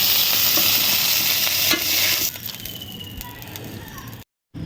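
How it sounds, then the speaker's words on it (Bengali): Prawns frying in a pan with oil, loud and close: a dense sizzle that drops off sharply halfway through, leaving quieter crackling and a few stirring scrapes before a brief cut to silence. "এবার এগুলো একটু নরমাল ভাবে ভেজে নেব"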